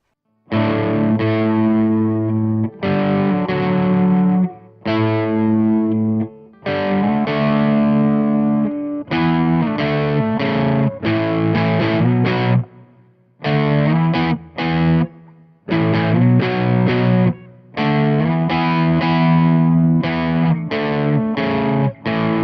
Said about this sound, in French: Je maintiens le gain assez bas ici pour plutôt jouer sur le volume de la gratte